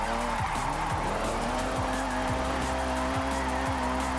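A '95 Eclipse drifting in Forza Horizon 6, its engine droning steadily while tires squeal through a long slide, with repeated sharp gear-shift or e-brake dips in the engine note roughly every half second to second.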